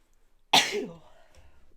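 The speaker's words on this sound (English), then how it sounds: "I'm gonna sneeze again." One sharp, close sneeze bursts out indoors during a relaxed conversation, followed by a brief fading exhale and quiet.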